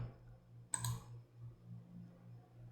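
A single crisp computer mouse click, close and clean, over a faint low hum in an otherwise quiet room.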